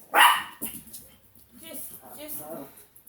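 A dog gives a loud, sharp bark or two near the start, and someone talks over it and keeps talking for the rest of the moment.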